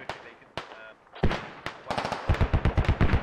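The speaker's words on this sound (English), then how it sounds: "Mortars coming back into play here." Mortar fire and explosions in the military shooter Squad, a few scattered thuds followed by a rapid, rhythmic run of heavy bursts, with faint voices underneath.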